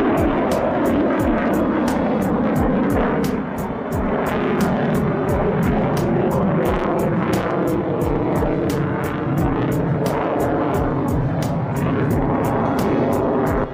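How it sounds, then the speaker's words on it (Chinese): A Russian Su-57 fighter jet at full throttle during aerobatic manoeuvres, a loud, continuous roaring engine that holds steady and close throughout, with no talking. "随后飞行员将油门推满进入直飞"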